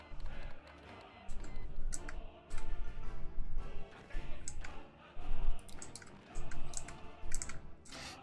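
Rapid, busy computer mouse clicking during unit micromanagement in Hearts of Iron IV, with sharp clustered clicks in irregular bursts close to the microphone, no talking.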